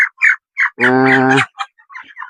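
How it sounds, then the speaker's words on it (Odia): Sonalika desi chickens on a small poultry farm, with short close clucks followed by a loud, sustained harsh call lasting under a second, then more scattered soft clucking. "ଆଉ ଇଏ ହେଲା ସେଇ ସୋନାଲିକା କୁକୁଡ଼ା"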